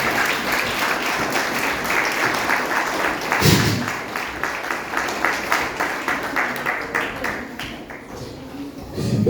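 A church congregation claps rhythmically in steady unison for several seconds, a dense, lively wash of hands with a faint voice underneath.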